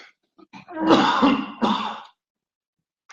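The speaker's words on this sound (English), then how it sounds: "I'm having a very bad coughing day" A couple of harsh, close throat-clearing coughs in quick succession, with short pauses before and after.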